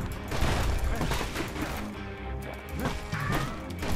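A blunderbuss fires in the video game Bastion, loud crashing blasts and smashing impacts packed close together over a dense, continuous game soundscape.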